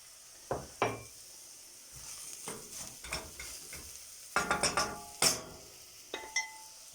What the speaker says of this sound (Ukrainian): Морква підсмажилась, додаю картоплю.